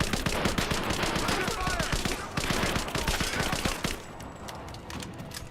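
Sustained suppressing gunfire in the action game Rise of the Tomb Raider: dense, rapid automatic bursts rattling continuously for several seconds, then thinning out, with combat shouts mixed in.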